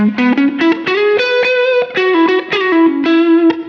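Sustained electric guitar, a Modern Eagle V on its humbucker pickup, with a warm, thick tone, a series of picked notes and chords ringing out loud and close with no talking.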